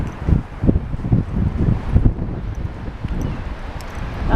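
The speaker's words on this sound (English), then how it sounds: "the wind is behind me" Gusty wind buffeting the microphone on a beach in the rain, a loud, continuous low rumble with rustling and uneven surges throughout.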